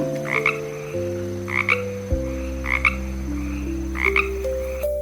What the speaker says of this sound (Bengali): উমতে ব্যাং, ব্যাং ডাকে